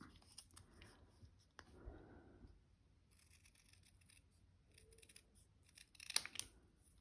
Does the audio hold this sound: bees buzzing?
no